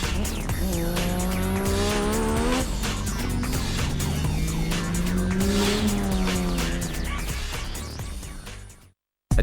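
A Nissan 350Z fitted with a 20B three-rotor rotary engine drives hard, its buzzing engine note rising and falling while the tires squeal loudly and continuously, then the sound cuts out abruptly near the end.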